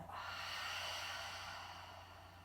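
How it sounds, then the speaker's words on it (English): A long, breathy exhale through the mouth during a yoga session, close and soft, swelling quickly and then fading gradually over a couple of seconds. "a long breath out through the mouth"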